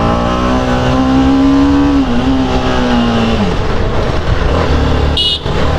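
A 2021 TVS Apache RR-310 motorcycle engine revs loud and close, a rising and sustained drone that holds and then drops away, followed by rough idle and a brief higher squeal near the end, no voices.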